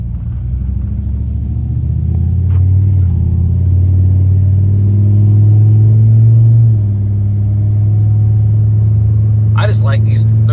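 A 2005 Dodge Ram SRT-10 pickup with a V10 engine pulls hard while driving, a steady deep low-pitched rumble swelling and then easing slightly, heard from inside the cab with a voice talking over it.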